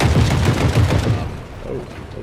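Rapid bursts of gunfire in the video game The Forever Winter, loud and dense at first with rounds punching through a wall, then easing off slightly toward the end.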